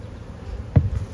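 Honey bees buzz in a small hive colony still occupying the brood chamber, a low steady hum with one brief louder swell as a bee passes close.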